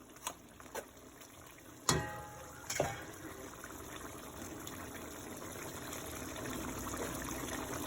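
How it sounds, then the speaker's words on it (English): Water poured into a pot of beef stew makes a soft, steady gushing pour after a few sharp clanks, flowing continuously and close by. "add some more water to the pot, stir it up"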